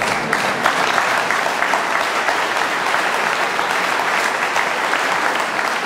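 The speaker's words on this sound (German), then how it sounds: "Applaus" An audience at a German political speech on jobs and housing breaks into loud, sustained applause, a close, even wash of many hands clapping with no voices above it.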